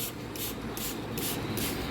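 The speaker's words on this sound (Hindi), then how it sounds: "तो अच्छी तरह आप सबको ऐसे स्प्रे कर दें अच्छे से" Organic fertilizer sprayed onto garden plants from a hand sprayer, five or six short, even hissing bursts in a steady rhythm, close and clear.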